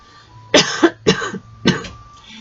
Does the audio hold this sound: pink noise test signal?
no